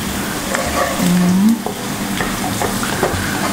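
Tempe and green beans stir-fried in a pan, a close, continuous sizzle with repeated scraping strokes of a spatula through the whole stretch.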